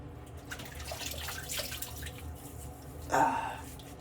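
Running water from a tap for wetting the face before a shave, a low background hiss that swells into a brief louder splash near the end, close and without talk.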